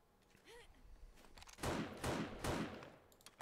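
Heavy shots from a coil sniper rifle in 7 Days to Die with the Darkness Falls mod, three booming blasts in quick succession, each with a brief reverberating tail, after a quieter lead-in.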